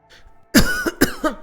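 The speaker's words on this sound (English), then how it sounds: "sorry for coughing right into the mic" Two sharp, loud coughs in quick succession directly into a microphone, preceded by a faint breath.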